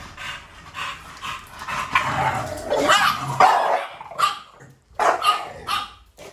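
A dog barks repeatedly at close range, loud sharp barks in irregular bursts mixed with panting and yips, with brief quiet gaps between volleys.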